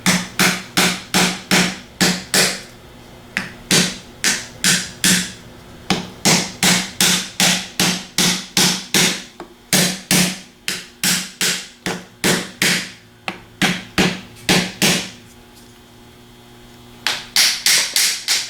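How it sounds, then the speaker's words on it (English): Denso internal fan stator being tapped into place during a rebuild, a long run of sharp, loud hammer taps in quick rhythmic bursts with short pauses, close and clear with no talk. "Set that on there and just kind of tap it around a little bit."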